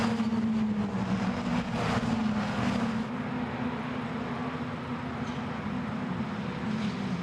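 Formula Renault Eurocup race cars at the Nürburgring make a loud engine drone with a buzzing tone while braking for the chicane, then carry on as a steadier, slightly quieter drone with a distant roar.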